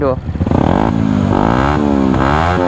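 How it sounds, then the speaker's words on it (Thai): A motorcycle engine revs hard and close, its loud throbbing note rising and falling in repeated pulls of the throttle, with a voice briefly heard at the start. "เนี่ยทุกคนคันนี้มันเร่งแบบโป่งๆ มากเลยนะ ไหนขอเร่งดูหน่อย"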